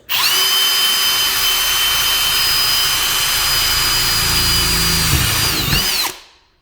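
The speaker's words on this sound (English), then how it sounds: "I'm going to keep drilling until I pop through with the drill bit on the other side." A loud power drill whines continuously for about six seconds, grinding through a metal door with a steady high-pitched tone before stopping abruptly.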